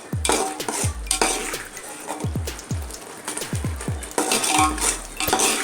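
Ginger garlic paste is stirred and sautéed in a pan for chicken biryani, with a metal spoon scraping and clinking against the pan in repeated strokes over a steady sizzle. No one speaks.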